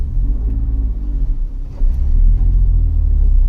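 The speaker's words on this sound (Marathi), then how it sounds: "आपली गाडी चालली" Low, steady engine rumble and road drone inside a taxi car cruising on a highway through farm country, continuous and fairly loud with no talk over it.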